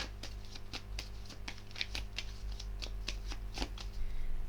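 Tarot cards being shuffled by hand, a quiet, close run of rhythmic papery flicks and riffles repeating steadily throughout.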